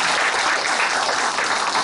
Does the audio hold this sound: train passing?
no